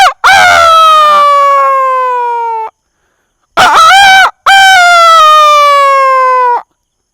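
A human voice imitates a rooster crowing: two loud, drawn-out cock-a-doodle-doo calls separated by a short pause, close to the listener.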